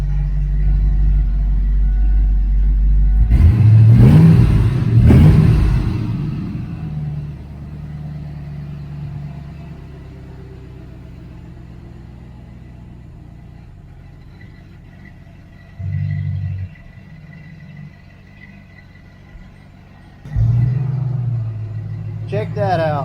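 Ford Foxbody car with a swapped engine starting for the first time, a loud burst of revving up front, then a steady idle rumble with two more short throttle blips near the end, run with mufflers but no tailpipes.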